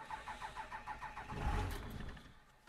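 A Dodge Ram 2500/3500 Cummins diesel cranks on a cold morning with a rapid pulsing starter rhythm, then catches into a brief louder roar that settles and fades, fairly quiet overall.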